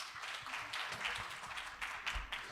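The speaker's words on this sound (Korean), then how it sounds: "큰 박수로 부탁드리겠습니다" An audience applauding at a cloud database technology presentation: soft, fairly distant clapping from a modest crowd, with individual claps audible in a steady, uneven patter.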